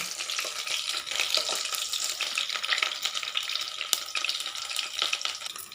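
Garlic fries in hot oil for Telagapindi curry, a close, steady crackling sizzle with scattered sharper pops throughout and no talking.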